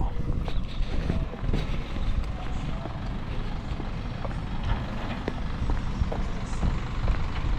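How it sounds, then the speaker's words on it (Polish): A tractor arriving, its heavy engine rumbling steadily and fairly loud through the whole stretch, with wind buffeting and faint beeps or clanks over it and no voices. "i w końcu traktor przyjechał"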